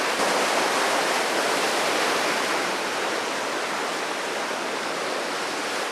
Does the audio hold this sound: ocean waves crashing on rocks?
yes